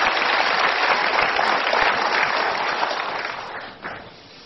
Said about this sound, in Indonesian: Kita berikan tepuk tangan super audience.